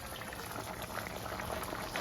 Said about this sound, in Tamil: கொஞ்சம் கொதிக்க விட்டு பார்ப்போம்